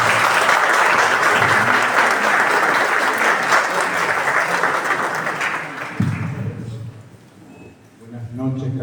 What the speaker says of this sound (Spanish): Un fuerte aplauso para el profesor.